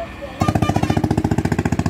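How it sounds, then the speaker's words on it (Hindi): A motorcycle engine, one of a group of bikes on a road trip, idles close by with a steady, heavy thumping pulse that starts abruptly after a short quiet lead-in and stays loud to the end. "so basically this is my bike"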